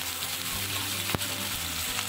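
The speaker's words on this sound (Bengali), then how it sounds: "এবারে আমি গাজর আলু একসঙ্গে আমি ভেজে নেব।" Carrots and potatoes frying together in a pan for a broccoli and paneer curry, a soft continuous sizzle with a single sharp clink of a utensil midway.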